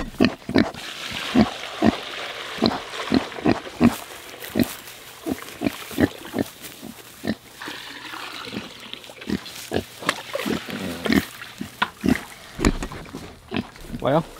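Pigs on a farm grunt and oink repeatedly in a steady rhythm, close and fairly loud, while a person talks over them.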